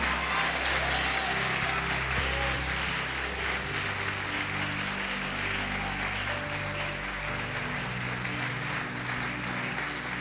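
A church congregation claps in a steady, dense wash of applause that holds evenly throughout, with sustained tones from music or instruments underneath.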